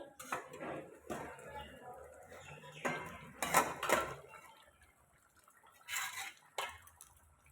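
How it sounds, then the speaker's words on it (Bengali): A lid comes off a pan of prawns cooking on the stove with several close metallic clinks and clatters spread over a few seconds, with quiet gaps between them. "চলো এবারে ঢাকনাটা খুলব"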